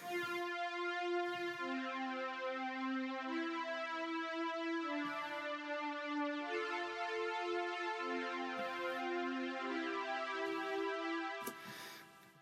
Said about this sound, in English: So a nice, smooth, sort of old school type pad there.